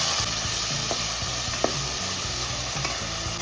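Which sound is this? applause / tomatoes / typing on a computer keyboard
tomatoes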